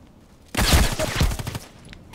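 Gunfire from an Orsis T-5000 sniper rifle in the shooter game Contract Wars erupts after half a second of quiet, loud dense bursts and rattling reports crowding together before tailing off into softer echoes.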